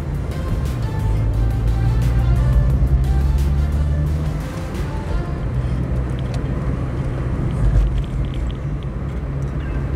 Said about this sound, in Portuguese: Aqui vai aumentando a muvuca aí dos carros aí.